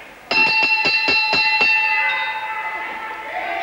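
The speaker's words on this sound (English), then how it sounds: "On the bell, round seven." A boxing ring bell clangs about six times in quick succession to end round seven of a professional bout, the metallic ringing tones then sustaining and slowly decaying under crowd noise.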